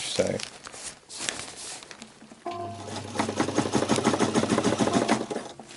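A sewing machine stitches tent fabric for camping modifications, its fast steady needle clatter running loud and continuous through the second half after a brief start, with a voice talking over it.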